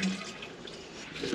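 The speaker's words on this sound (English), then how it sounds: "Flush it, and then with the water turned off," A household toilet flushes during plumbing work on an underfloor heating system, giving steady rushing water at moderate level throughout.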